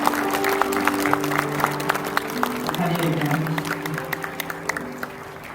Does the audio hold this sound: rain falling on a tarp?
no